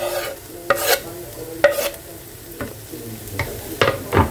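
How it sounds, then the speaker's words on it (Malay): Onion and garlic fry in a pan for shakshuka, a steady close sizzle broken by several distinct scraping strokes as the mix is stirred. "Sampai bawang dah macam ni, kita baru masukkan bawang putih."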